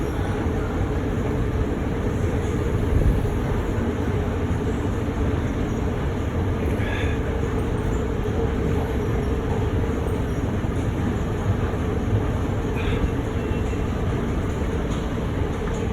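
A London Underground train at Charing Cross station fills the space with a steady, low rumbling roar and faint metallic squeaks, continuous throughout with no speech.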